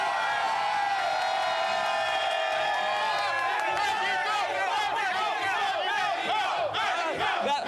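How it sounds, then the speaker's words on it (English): Large crowd at a rally cheering and whooping loudly and continuously, a dense roar of many excited voices with shouts rising through it. "the crowd here is pumped"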